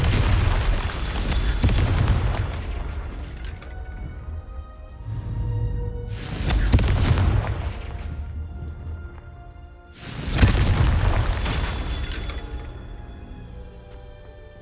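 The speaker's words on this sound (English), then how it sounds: "So your job here is to just basically blow up all of these different blue rocks that you can see." Heavy booming blasts from Confringo spells blowing up rocks in Hogwarts Legacy, three big explosions each trailing off in rumbling debris, loud and close, with no talking.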